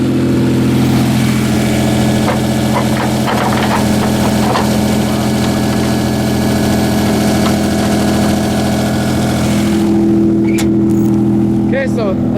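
1989 Toyota Camry V6 idling steadily after sitting through winter, a loud, close, even engine drone throughout, with a person talking over it.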